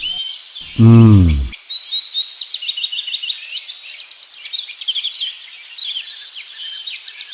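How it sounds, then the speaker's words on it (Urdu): Sparrows chirp from a tree in an animated cartoon, a busy chorus of quick high tweets running without pause after a brief low tonal sound near the start. "وہ درخت سے چڑیاں آواز کرتے ہیں، دیکھیے بہت چڑیاں ہیں۔"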